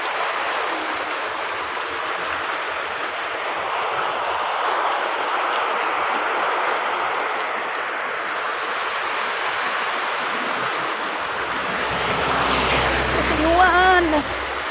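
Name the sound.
heavy sudden rain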